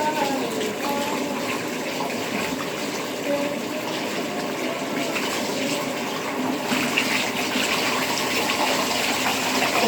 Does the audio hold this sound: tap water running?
yes